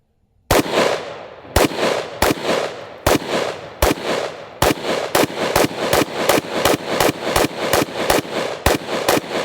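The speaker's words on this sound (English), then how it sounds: "Let's pull the string again." An AR-15 rifle fires round after round, triggered by a pulled string during a torture test, giving loud, sharp cracks in a rapid, slightly irregular series of about twenty shots with echoing tails outdoors.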